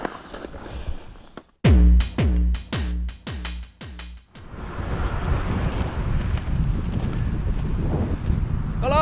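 Strong wind buffeting the microphone during an outdoor gravel bike ride, a loud continuous rushing roar after a burst of sharp knocking thuds near the start.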